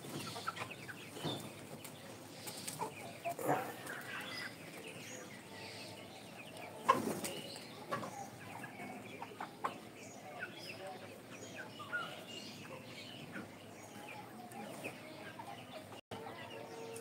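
Colour-bred chickens in a farm shed give scattered clucks and calls over a steady flock murmur, with occasional louder squawks close by and no clear talk.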